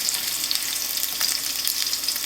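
Sausages sizzle in hot grease in a skillet with a continuous, even crackle and hiss, close and fairly loud, and no voices.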